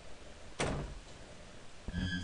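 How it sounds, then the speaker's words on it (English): A door opens in the horror video game Ao Oni: a sudden loud thunk, then a creaking slide and a second bump against a steady background hum, with no voices. "I heard the door open."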